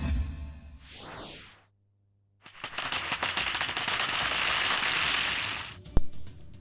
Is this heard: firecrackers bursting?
yes